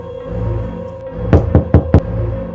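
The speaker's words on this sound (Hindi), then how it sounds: "अचानक किसी ने रूम का दरवाज़ा खटखटाया।" Four sharp knocks on a room door, the first three evenly spaced and the last a little quicker, loud and close over a low steady hum in a horror story.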